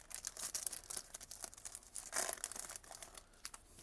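Panini football card packs being torn open and handled, with dense crinkly crackling of foil wrappers and sharp tearing bursts, faint but continuous and close, with no talking.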